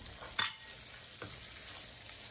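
Onion strips stir-fried in a wok with Sichuan peppercorn give a faint, steady sizzle with one sharp spatula clack near the start and a softer scrape after.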